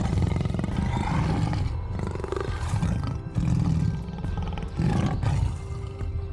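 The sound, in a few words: tiger roaring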